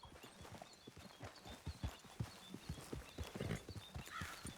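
Horse hooves clip-clop at a steady trotting rhythm in the Red Dead Redemption 2 video game, close and fairly quiet, with soft ambient outdoor sound beneath the hoofbeats.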